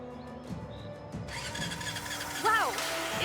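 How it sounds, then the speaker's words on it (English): An engine starts up in the adventure puzzle game Brassheart, a low mechanical rumble kicking in partway and rising with a whirring pitch sweep, alongside speech. "Let's give that engine a spin."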